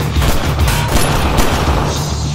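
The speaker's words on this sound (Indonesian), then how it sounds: "Hondo mengajak Jim untuk mengadu akurasi tembakan dengan TJ" Dense gunfire fills a shooting contest scene in a film, a loud continuous volley of shots with booming low end that cuts off abruptly at the end.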